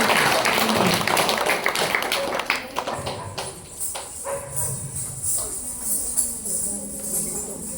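Children clapping at a government school program to cheer on dancers, a burst of dense applause at first that thins into scattered claps and taps, with voices around.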